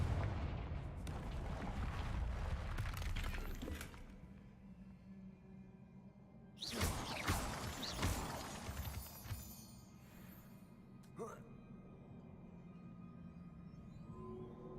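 A video-game Confringo blast spell going off: a sharp, loud explosive burst with a rumbling tail that fades, following a stretch of dense, noisy game ambience, with a smaller pop later on.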